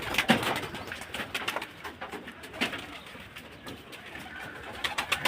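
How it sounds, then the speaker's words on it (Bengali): Several pigeons coo repeatedly at close range in a backyard where the household's free-roaming birds sit brooding their eggs, soft throaty calls recurring throughout with faint rustling in between and no talk. "এগুলো কবুতর।"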